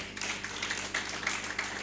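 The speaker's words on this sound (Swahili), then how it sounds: "Mtu apigie Bwana makofi mazuri." A church congregation at a Bible study claps for the Lord in a steady, rhythmic run of hand claps, moderately loud and slightly reverberant, with no speech over it.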